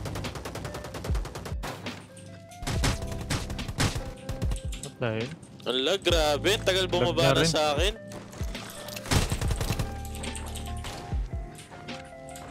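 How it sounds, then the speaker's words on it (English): Sharp gunfire from a squad battle-royale video game crackles in repeated bursts and single shots, loud and close, interleaved with excited talking throughout. "Gunshot"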